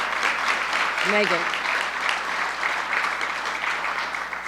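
A small group claps for a new friend at a housing-unit visit with a governor, a steady modest patter of applause running throughout, with a brief spoken name near the start.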